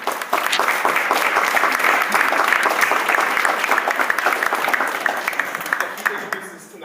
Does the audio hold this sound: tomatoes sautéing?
no